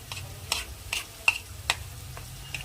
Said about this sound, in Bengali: এবার সেই রসুন বাটাটা আমি সবার আগে এই তেলের মধ্যে দিয়ে দেব